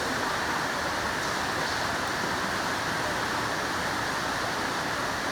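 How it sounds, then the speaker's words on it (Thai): Heavy rain pouring down outside a small shop, a dense, steady hiss with no breaks or gaps, fairly loud and close, with no voices over it. "ฝนตกหนักนะครับวันนี้"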